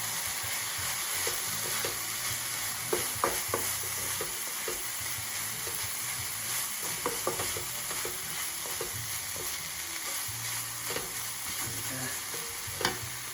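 Vegetables fry and soften in a hot pan for beef chow mein, a steady sizzle with occasional scraping and stirring knocks from a utensil, close and continuous without talk.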